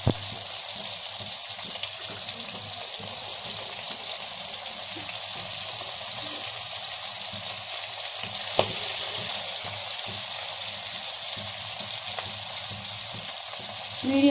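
Bitter gourd and onion frying over medium heat in a pan, a steady broad sizzle running the whole time with a few faint scrapes, no voices.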